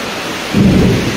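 A low rumble of thunder rolls in briefly over steady rain during a typhoon, loud and close, with no voices.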